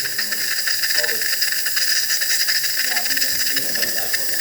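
DeLonghi Dinamica coffee machine dispensing hot water, a steady loud steamy hiss that runs throughout with no break.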